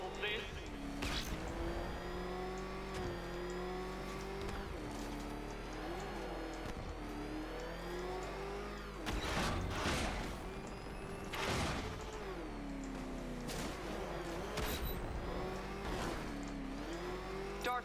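The Batmobile's engine in Batman: Arkham Knight revs and roars steadily, swelling into louder accelerating surges with crashes and impacts, under a voice speaking.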